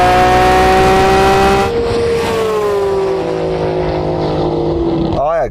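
A Porsche GT3 RS and an AMG GTR accelerating hard side by side in a race: a loud, close engine howl rising in pitch, dropping briefly at a gear change, then climbing again toward a sharp upshift at the end.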